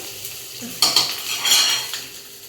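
Fish frying in a pan as crushed pepper is tossed in, with a low steady sizzle punctuated by two sharp bursts of spattering and utensil scrapes, close and clear with no talking.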